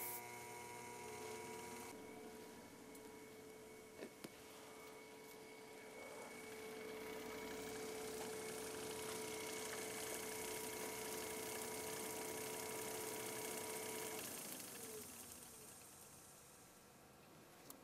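A crankshaft spins on a balancing machine, giving a faint, steady mechanical whine with a hum that holds for many seconds, then winds down toward the end.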